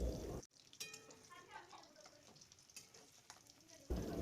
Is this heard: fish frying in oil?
yes